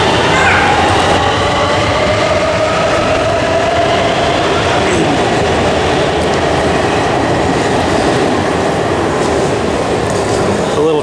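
A Shanghai subway train pulls into a station, its steady rumble and rail noise filling the space loudly and continuously from start to finish.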